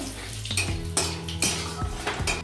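Bay leaf, dry chilli and five-spice tossed in hot oil, metal spoon clanking and scraping against the pan in quick repeated strokes, with a light sizzle underneath.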